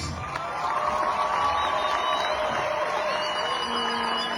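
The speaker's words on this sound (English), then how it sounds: "Let's give this gentleman another round of applause." A crowd welcoming a basketball team home to Juba, South Sudan gives a round of applause and cheers. The sound is steady and moderately distant and fills the whole moment, with a faint whoop and a brief voice near the end.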